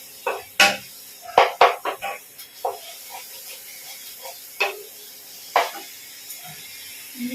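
Spices and ginger garlic paste are stirred in a pan with sharp, irregular clinks and scrapes of a utensil against metal over a faint hiss, with no talk.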